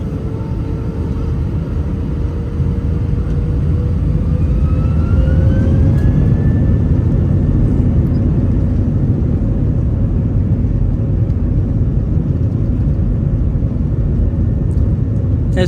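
Lufthansa airliner jet taking off from Frankfurt, a loud, sustained roar of engines heard from inside the cabin, with a deep rumble and a whine that rises in pitch as the thrust builds.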